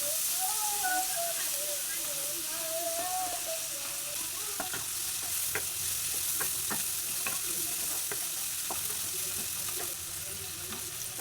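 Shrimp masala frying in a pan gives a steady loud hiss of sizzle, with repeated clinks and scrapes of stirring and a sliding whistle-like tone early on, heard close.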